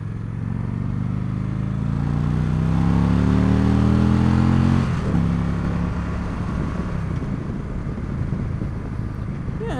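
A 2015 Victory Cross Country motorcycle with a 106-inch engine accelerating on a test ride, loud rising engine drone with wind rush that peaks, then settles to a rougher rumble, heard close.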